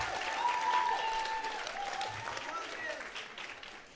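An audience at a Hayley Kiyoko Facebook livestream at Samsung 837 gives a round of applause, steady dense clapping that holds for the whole stretch and eases slightly toward the end, with faint voices mixed in.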